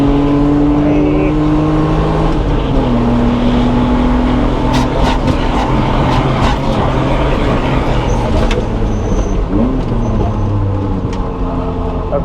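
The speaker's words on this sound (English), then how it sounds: "I just wanted to pass my car. This is a very smooth, silky, buttery car." BMW E36 M3 sedan track car driving on a circuit, with a loud constant engine drone and shifting harmonics as the revs rise and fall, heard from inside the cabin while the driver talks over it.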